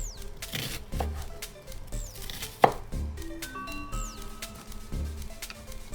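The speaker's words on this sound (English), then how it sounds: "Now you can see I cut the bell pepper and the onions." Several sharp knife chops on a cutting board cutting bell pepper and onions, irregular and close, with quiet clicks and handling noise between them.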